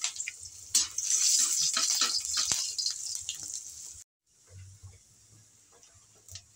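Garlic and onion sizzle in hot oil in a pan, a steady bright crackle with scattered pops and clinks, cut off briefly partway, then resuming more quietly.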